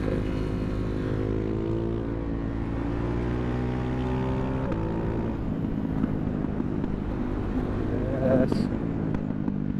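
Ducati Hypermotard 690 Mono RVE single-cylinder motorcycle engine droning steadily while riding on an Arizona road, with a rider talking over it throughout and a brief louder rev near the end.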